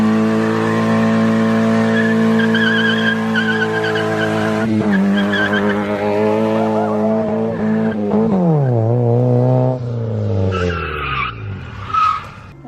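A car skids with tires squealing loudly and continuously, the pitch wavering and sliding as the car slides, with engine noise underneath and the squeal breaking into shorter chirps near the end.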